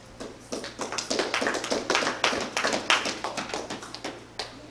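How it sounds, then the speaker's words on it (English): A congregation claps in praise during a church service, a steady run of sharp, close hand claps over a low background hum, with no voices. "And clap praise."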